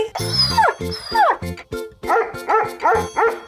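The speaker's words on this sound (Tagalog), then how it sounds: "Para pala sa asong si Chuchay, ang ampon ni Jelay." A small pet dog gives a quick run of sharp, high yips and barks, close and loud, in an irregular rhythm with whimpering tones between them.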